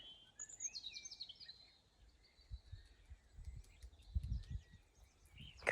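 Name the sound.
birds singing outside in the evening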